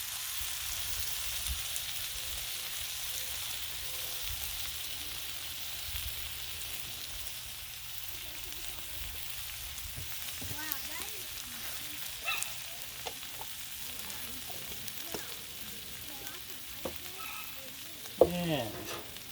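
Gnocchi frying on a Blackstone griddle, a soft steady sizzle with scattered crackles and pops, fairly quiet and continuous, with occasional stirring scrapes.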